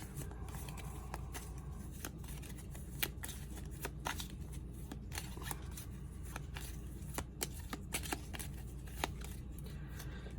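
Symptom cards for the solo tabletop game Bristol 1350 are shuffled together, giving a quiet, steady papery riffling with soft clicks and flicks throughout, close but faint, with no voices.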